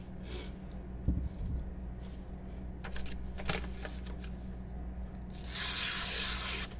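A deliberately dulled knife blade swipes back and forth across bare leather in soft, dry rubbing strokes, quiet and close, with a few scattered light taps.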